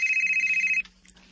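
A phone ringtone for an incoming call trills in a rapid, high warbling pattern for under a second before cutting off abruptly.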